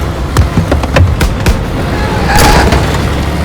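A grenade explodes in Call of Duty WWII during the S.O.E. train mission, a broad burst of blast noise rising midway through a busy stretch of sharp combat impacts and faint shouting voices.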